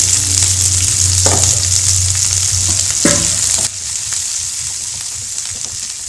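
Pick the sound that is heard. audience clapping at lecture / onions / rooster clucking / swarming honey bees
onions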